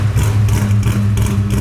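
A big cammed V8 in a Fox-body car idles close by with a loping, uneven chop, a heavy rumble pulsing in rough rhythm.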